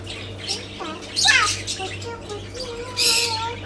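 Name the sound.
parrot squawking in a pet shop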